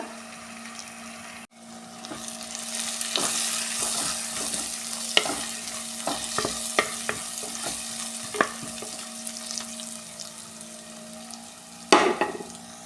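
Green chillies and tomatoes are sautéed in a hot pan for a chicken dish, with a constant close sizzle broken by repeated sharp scrapes and taps of the spoon stirring.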